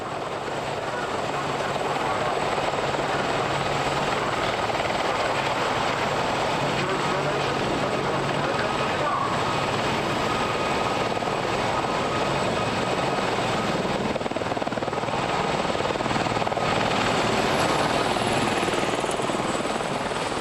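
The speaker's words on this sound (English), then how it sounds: "the Army's newest helicopter, the Apache, to make its grand entrance. The British-built WAH-64 Apache" A British-built WAH-64 Apache army helicopter flies at an airshow. Its rotor and engine give a loud, continuous droning roar that holds steady for about twenty seconds.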